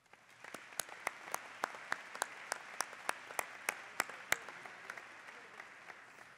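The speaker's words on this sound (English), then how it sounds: "Would you stand and receive our applause?" A university commencement audience claps in a thin, distant and faint scatter of single sharp claps spaced a fraction of a second apart, fading out after a few seconds in a large hall.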